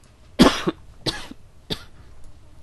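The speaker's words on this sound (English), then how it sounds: "I'm sorry, I don't know why I'm coughing, guys." Three dry coughs in a row, close to the mic, the first loudest, each spaced well apart.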